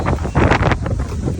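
Strong, gusty wind roaring and buffeting the microphone with a dense, continuous rush that swells and eases over a second and a half, loud and close, with no voices.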